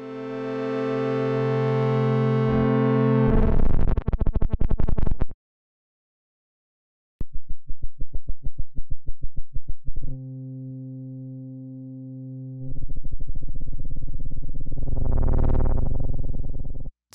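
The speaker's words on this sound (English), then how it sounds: "Some really nasty, aggressive tones being created here." Harsh, buzzing tones from the u-he ACE synthesizer with negative filter gain play in sustained blocks separated by a silent gap, some pulsing rapidly and one ending with a sweeping distorted rise.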